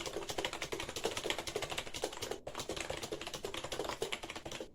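Rapid, steady typing on a XINMENG 60% RGB gaming keyboard, dense clacking keystrokes close up with a brief pause midway, no talking.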